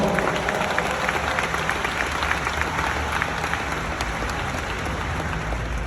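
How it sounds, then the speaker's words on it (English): Loud, continuous applause from a conference audience at a finance event in Atlanta, a thick wall of clapping and crowd noise held steady throughout. "Give yourselves a round of applause."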